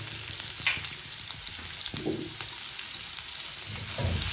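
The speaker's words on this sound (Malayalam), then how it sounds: "ഒരു കടായി ചൂടായിരുന്നതിലേക്ക് ഒരു ഒന്നര ടേബിൾ സ്പൂൺ നെയ്യ് ഒഴിച്ച് അതിലേക്കൊരു ചെറിയ ഉള്ളി ഒരു രണ്ടോ മൂന്നോ ചെറുതായി കൊത്തി കഴിഞ്ഞാൽ ഒന്ന് നമുക്കൊന്ന് വഴറ്റിയെടുക്കാം" Small chopped onions sautéing in ghee in a hot kadai, a steady gentle sizzle with occasional stirring scrapes, close and moderately quiet, with no talking.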